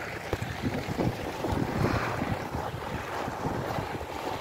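Winter wind in Norilsk blowing in a steady, rough rush with gusty buffeting against the microphone, moderately loud and continuous with no voices.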